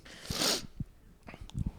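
A single sharp sneeze near the start, loud and close, followed by a few soft sniffles and breathy noises.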